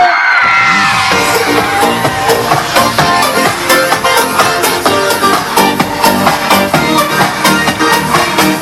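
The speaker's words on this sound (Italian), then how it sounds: "Urlo delle donne." Women in a live concert crowd scream and cheer loudly and continuously, shrill yells rising over the music and drums of the performance throughout.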